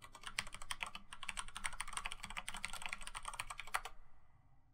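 Steady typing on a computer keyboard, a dense run of quick key clicks at close range for about four seconds, then stopping into quiet room noise; no one speaks.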